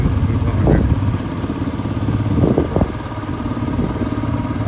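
A motorcycle rides along a mountain road on the Manali to Leh route, its engine giving a steady mid-pitched drone throughout, with a few brief clattering bursts over it.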